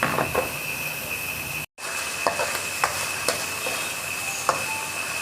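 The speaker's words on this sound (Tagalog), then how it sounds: "Igigisa-gisa lang natin guys para magkaroon tayo ng gulay." Vegetables sautéing in a pan: a steady, close sizzle and crackle that continues throughout, broken by a brief gap, with occasional light clicks of stirring.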